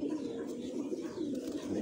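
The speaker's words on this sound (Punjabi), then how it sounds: "ਬੜੇ ਆਲਾ ਕਬੂਤਰ ਹੈ ਜੀ" Pigeons coo in a soft, continuous low murmur, steady and fairly close, with no talking over them.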